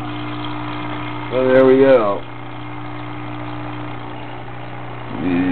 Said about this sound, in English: Little itty bitty aquarium pump over here in the corner